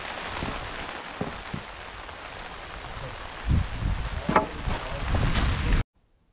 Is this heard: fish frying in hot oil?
no